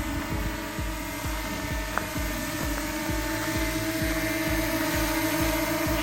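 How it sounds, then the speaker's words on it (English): A DJI Mini SE camera drone hovers with a steady high-pitched whine like a swarm of mosquitoes, accompanied by rhythmic throbbing pulses, continuous and moderately loud outdoors in Alaska. "And we are finally trying out our drone."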